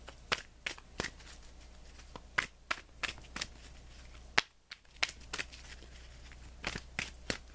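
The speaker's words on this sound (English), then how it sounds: "Let me draw you an additional guidance card, Cancer, for this upcoming week." Tarot cards being shuffled and drawn, heard as sharp irregular snaps and riffles close up, scattered through the clip against quiet background.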